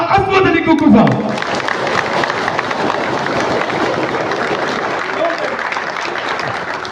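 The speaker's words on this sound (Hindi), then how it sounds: "ਦੇਖੋ ਹੁਣ ਤਾਲੀਆਂ ਦੇਖਣਾ ਤੁਸੀਂ" Audience applause at a prize distribution ceremony, a loud sustained clapping crowd with a voice calling out over the start.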